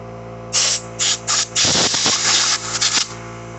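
Compressed air blasts into a pencil to clear stuck chips, coming as several short sharp hissing bursts followed by a longer sustained spray, close and loud.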